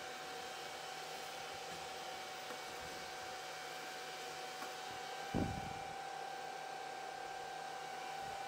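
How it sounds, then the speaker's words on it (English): A Kaleido M6 Pro coffee roaster's cooling fan pulls air through the cooling tray in a steady, broadband whoosh. The rush holds even and close throughout, with a brief low thump in the middle. "You can feel so much air just sucking through this, it's crazy."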